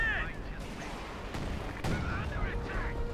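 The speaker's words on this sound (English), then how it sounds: "almost got hit there with its own artillery shell." Artillery shells burst in the World War II strategy game Company of Heroes 2, giving a couple of sharp, booming impacts over constant battlefield rumble while a commentator talks over the action.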